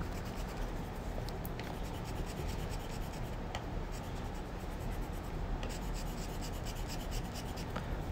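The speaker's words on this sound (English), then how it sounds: "I can use an eraser to go over the remaining chalk dust to make sure that I didn't leave anything inside" Small eraser rubbing over leftover chalk dust on a chalkboard drawing, a steady close scratchy rubbing that runs continuously with a few sharper scrapes.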